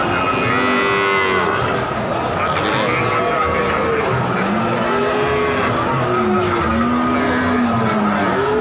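Cattle lowing repeatedly at the Wirosari cattle market, several moos rising and falling over a dense, loud backdrop of market chatter and bustle, with people talking nearby throughout.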